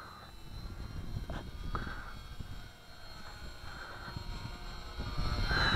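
A small XK DHC-2 A600 RC model airplane flies overhead, its thin electric motor whine droning steadily at moderate distance through wind noise outdoors, swelling louder toward the end as it passes closer.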